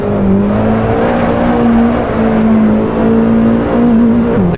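A race car engine in the Assetto Corsa driving simulator drones steadily and loudly throughout, holding a sustained high-revving tone with slight pitch shifts and no talking.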